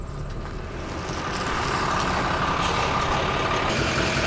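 A Kenworth semi truck idles at a farm grain operation: a dense, steady engine rumble that swells slightly in the first second and a half, then holds loud and constant with no voices.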